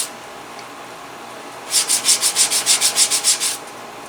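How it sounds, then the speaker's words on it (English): Sandpaper rubbed back and forth along the burnished edge of a leather IWB holster for a Hellcat pistol, about a dozen quick rhythmic strokes, close and clear after a quiet start. "so I need to go around and do a nice sand on it"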